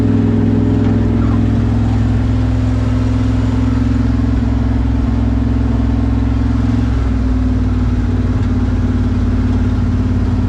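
Engine of a 1972 Dodge D100 pickup truck idling down, a steady close, loud low rumble holding throughout with a slight drop in pitch partway, no talking.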